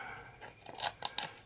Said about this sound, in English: yeah, it cuts paper